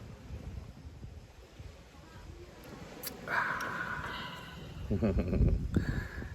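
Gusty wind rumbles and buffets the microphone outdoors in Lobo, Batangas, rising and falling, while people chat and drink nearby with occasional clinks.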